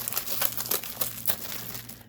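A plastic bag crinkles and rustles in quick bursts as a pre-stamped cross stitch kit is unpacked, close and fairly loud.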